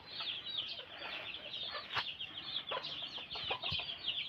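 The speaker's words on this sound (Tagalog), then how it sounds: "May mga alagang manok." Native chickens cluck repeatedly in a small farm plot, a flock of busy, overlapping high clucks and short calls close by, with no voices.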